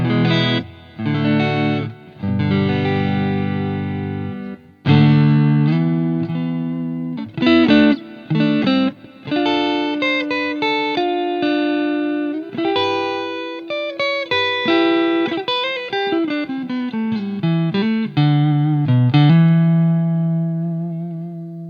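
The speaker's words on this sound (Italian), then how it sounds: "Ok, suoni puliti, appena un po' di riverbero, un plate, e andiamo a fare una carrellata su questi tre pick up. Partiamo dal pick up al manico." Clean electric guitar played on the neck pickup through a plate reverb, warm and bass-leaning, with chords and single-note phrases ringing out alone, loud and close, with short pauses between phrases.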